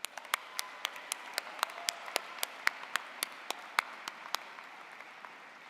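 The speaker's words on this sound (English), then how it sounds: "Graduates, please give them a big round of applause." A graduation commencement audience for a university business college class gives a round of applause, with distinct sharp claps rising clearly above a steady, fairly faint wash of clapping.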